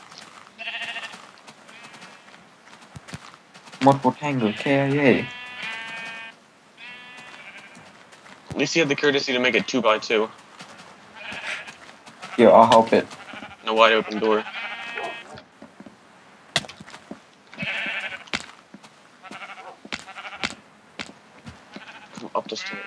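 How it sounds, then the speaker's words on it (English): Sheep bleat repeatedly in a Minecraft mass sheep migration, many overlapping calls rising and falling close by, while several players talk over them throughout. "these are the sheep that push through"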